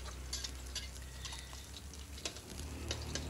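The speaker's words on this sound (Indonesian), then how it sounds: "Kita goreng dengan sistem diorak-arik supaya nanti telur ini tergoreng dan kita campurkan ke dalam mie gorengnya." Eggs are scrambled in a frying pan for Indonesian fried noodles, giving a continuous close sizzle with scattered clinks and scrapes of a utensil stirring against the pan.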